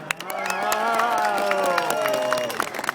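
A crowd at a freestyle motocross bike show bursts into loud, sustained applause and cheering, with shouting voices and dense clapping swelling quickly and holding steady before starting to thin out near the end.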